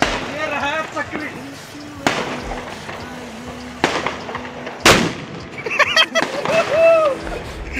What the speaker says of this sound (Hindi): तो अभी मैं चक्री जलाऊंगा